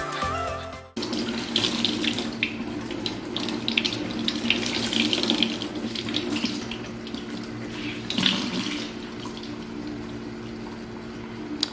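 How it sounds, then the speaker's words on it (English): Tap water runs continuously into a sink while makeup brushes are rinsed under it, a steady close hiss with shifting splashes. It starts abruptly after a brief moment of quieter sound and holds fairly loud throughout. "And I just start rinsing with cool water."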